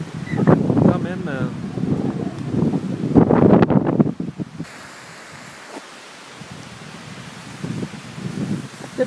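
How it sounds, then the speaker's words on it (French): Strong wind blows across the Yukon River, roaring and buffeting the microphone heavily at first with muffled voice-like sounds, then settling into a steadier, lower rushing gust. "Le plus gros obstacle de la journée, finalement, a été le vent."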